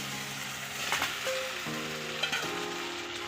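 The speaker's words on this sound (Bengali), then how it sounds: "এবার আমি ভেজে রাখা আলু আর সয়াবিনগুলো দিয়ে দেব।" Fried potatoes and soybeans go into a hot pan for a Bengali egg and soybean dish and sizzle quietly and steadily, with a few soft clinks over a faint tonal background.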